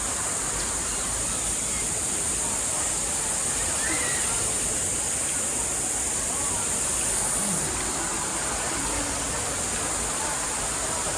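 A clear river rushing over rocks, a steady loud broadband wash of flowing water with no break, close and constant throughout.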